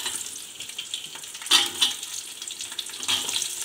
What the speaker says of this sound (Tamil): இது பண்ணி இப்போ இதுக்கு வெங்காயம் ஆட் பண்ணுறேன்